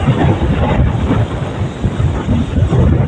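A deep, rolling rumble of thunder from lightning during a windstorm over a farming village, loud and sustained, blended with a steady wind roar.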